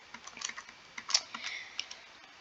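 Someone types on a computer keyboard while writing JavaScript, giving a quick, irregular run of close, crisp key clicks with no voice over them.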